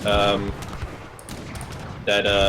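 Musket volleys crack out in a real-time strategy battle in Age of Empires III, with dense bursts of gunfire at the start and end and a rumbling mix of combat noise between, under continuous commentary.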